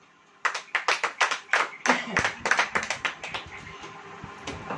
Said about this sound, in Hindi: इस बात के लिए ताली बजाइए।